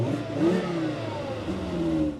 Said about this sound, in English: Who'd expect a little hatchback to sound like this?